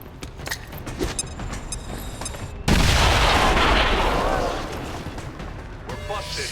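Frag grenade going off in the XCOM game: a sudden loud, broadband blast that swells and slowly decays into rumbling debris, following softer game sounds, with someone speaking faintly underneath.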